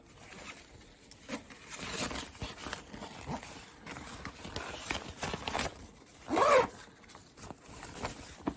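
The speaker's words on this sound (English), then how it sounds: "Test my purple zipper" A purple zipper on a sewn pouch zips in a few quick scraping runs, close up, ending in one louder, longer pull.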